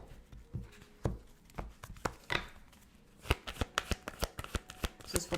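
Tarot cards are shuffled close up and quietly, with a string of sharp riffles and taps that run slow at first, then quicken into a rapid burst near the end.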